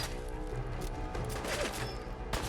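Rapid bursts of gunfire from the video game Fallout 4, a dense crackling volley that runs through the whole short stretch at steady loudness, with no talk over it.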